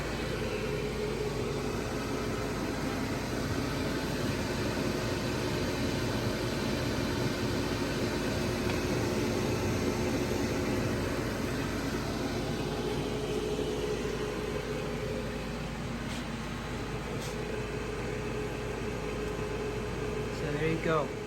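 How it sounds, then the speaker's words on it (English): A steady electric fan motor hums and whooshes air through a woodstove vent, a constant, even drone throughout with no change in pitch. "So now I'm going to go ahead and turn off the fan."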